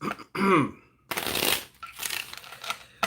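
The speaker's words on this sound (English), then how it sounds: "let me just shuffle this up a little bit here" A deck of playing cards being shuffled by hand, with several quick riffling bursts broken by short pauses, close and clear, with faint throat sounds in between.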